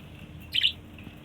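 One of six pet birds kept at home gives a single short, bright chirp against a quiet room background, with no other sounds or voices.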